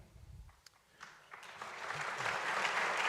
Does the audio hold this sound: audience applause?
yes